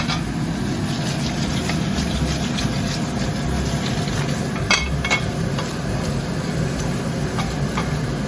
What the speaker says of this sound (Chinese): 忘记开抽油烟机